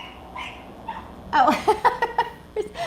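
A dog passes by with a rapid burst of yips and barks, several sharp calls in quick succession, moderately close, after a few softer whimpering sounds.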